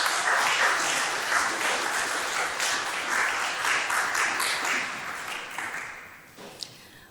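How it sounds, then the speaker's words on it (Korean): A congregation at a university founder's memorial service applauds to welcome a professor, a sustained wash of clapping that gradually thins and fades toward the end. "여러분 백순화 교수님을 박수로 맞아주시기 바랍니다."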